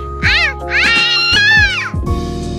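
A cat out on a street meows two or three times in loud, drawn-out calls that rise and fall, close by, with short gaps between the calls.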